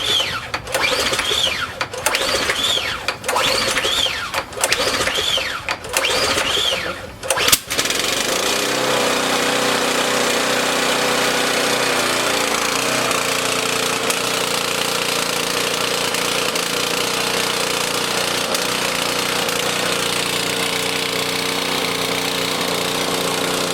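Small engine running on regular 93 pump fuel with no additive: several rapid pull-start attempts with buzzy bursts, then it catches and settles into a loud, steady, close running drone that holds to the end.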